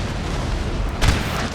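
Cannon fire in Napoleon: Total War, a single deep boom rising briefly out of a dense, constant rumble of battle noise.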